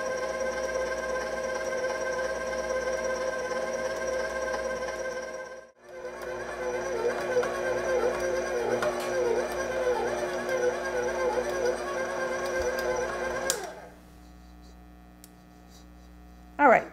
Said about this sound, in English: I'm just going to let it knead on here for about 4 or 5 minutes. Just let the machine do some of the work.